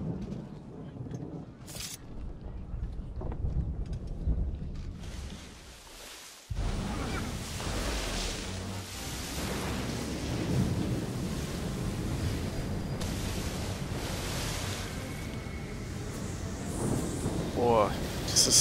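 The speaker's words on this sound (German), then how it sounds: "ist cool gemacht mit den Wellen, die da brechen am Bug" Stormy sea waves break against a sailing ship's bow in Assassin's Creed III, a continuous loud rush and roar of surf and wind, with people talking over it throughout.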